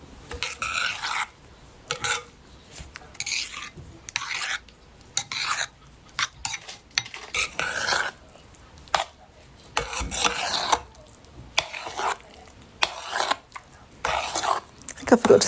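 Desiccated coconut is folded into banana cake batter, giving repeated soft scraping and rubbing strokes of a utensil against a bowl in an irregular rhythm, with light clinks between them.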